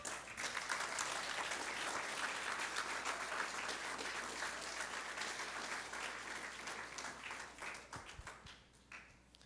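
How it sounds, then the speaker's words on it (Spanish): A church congregation applauds in a large hall during a sermon, dense sustained clapping at steady loudness for about nine seconds before thinning slightly toward the end. "Dele un aplauso a Cristo."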